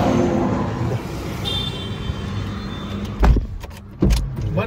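A car pulls away on a highway during a thunderstorm, a steady engine and road rumble with a brief whine and a couple of short thumps near the end, all fairly loud and close.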